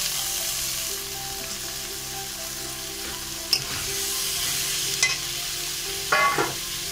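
Onion, ginger and tomato fry together in a pan for egg biryani, giving a steady, close sizzle with a few sharp utensil clinks and stirring scrapes partway through.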